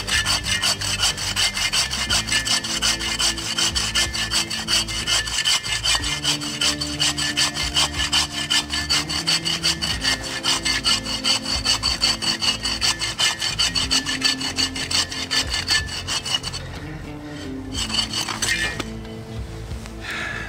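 A portable survival hand saw cuts through a large, leg-thick log near its thicker end, giving steady, fast, rasping push-pull strokes that run on loud and close with little pause.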